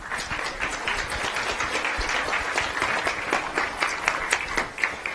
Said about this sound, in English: If you give a round of applause for Dr. Martino Harmon.